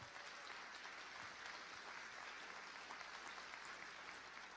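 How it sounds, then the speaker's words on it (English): A crowd claps steadily for several seconds at a candidate forum, a dense, even round of applause heard from a little distance. "Let's give all the candidates another round of applause."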